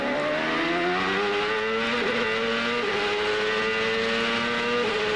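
Race cars from the 1999 CART Honda Indy 300 in Australia sweep through a corner, their loud, high-revving engines overlapping in pitch as they shift and slide past at close range, with no talk.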